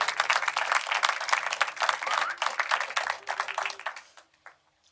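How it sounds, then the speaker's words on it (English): Audience applause for the jury at a film festival awards ceremony, dense and steady for about four seconds before tapering off to a few scattered claps. "So can we have a round of applause for our jury?"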